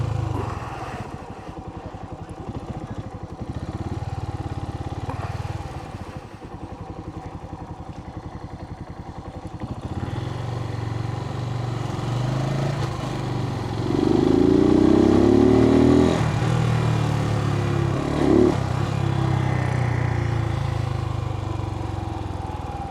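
A Suzuki TU250x motorcycle rides through town in the dark far north, its single-cylinder engine giving a steady close rumble throughout, with a rise in revs partway through and some clattering road noise.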